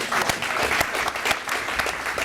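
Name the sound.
audience applauding loudly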